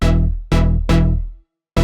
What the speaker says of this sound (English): I found this preset in the Savannah pack called Lead Remember